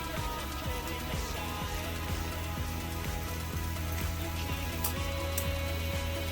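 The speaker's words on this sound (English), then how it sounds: "You can hear that turkey in the background sizzling." A steady, dense crackle of turkey sizzling in a hot pan fills the background continuously, with a faint regular ticking underneath.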